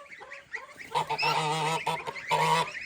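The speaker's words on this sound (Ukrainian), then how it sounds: "Гуси ось такі." Geese honk loudly at close range, several harsh nasal calls overlapping in quick bursts, with brief pauses between.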